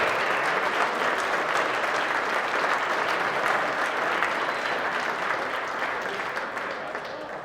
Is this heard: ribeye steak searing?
no